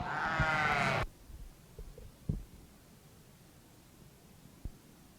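At a livestock show's breeding sheep showmanship ring, a Southdown sheep gives one loud, close bleat lasting about a second, followed by quieter hall noise with a few faint thumps.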